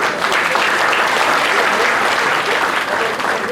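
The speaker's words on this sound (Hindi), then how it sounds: "उनके पेरेंट्स के लिए एक ताली हो जाए।" Steady, dense applause from a hall audience fills the whole stretch at an even, loud level, with no break or talk over it.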